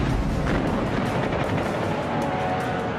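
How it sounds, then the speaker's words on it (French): The Japanese battleship Yamato fires its 460 mm main guns at American warships, heard as heavy rumbling booms and a sustained roar of gunfire, loud and dense with no voices. "Le Yamato peut enfin faire usage de ses canons de 460 mm contre les navires américains"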